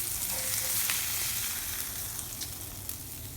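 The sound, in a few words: steak searing in a pan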